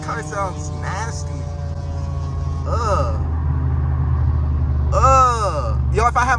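Low, steady engine rumble of a BMW F30 328i with a Stage 2+ tune, moving in heavy traffic, droning continuously beneath excited voices talking over it.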